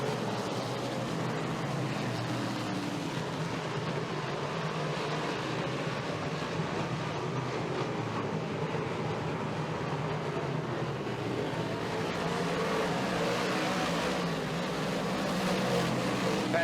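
Modified race cars circle a dirt oval at Woodhull Raceway, a steady, dense engine roar from the pack running single file through the turns, continuous and somewhat distant throughout.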